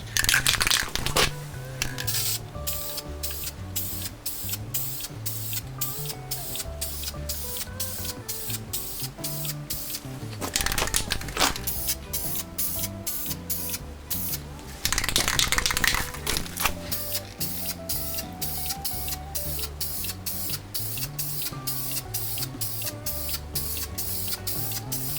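VHT caliper paint hisses from an aerosol can onto a masked rear brake caliper on a 2005 GMC Yukon, sprayed in steady close bursts with brief pauses and a few longer, stronger passes.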